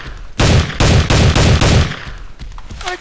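A video game pistol fires about five loud, evenly spaced shots in quick succession, then the sound trails off into quieter game noise.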